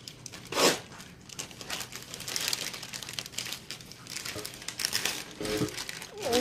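An X-Acto knife slices open a package with close crinkling, tearing and rustling of packaging material in irregular bursts, loudest at the start and near the end.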